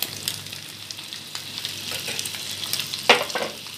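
Mutton frying in a pan with ginger and garlic gives a steady, dense sizzle with occasional louder crackles and a stirring scrape near the end. No voices are heard over it.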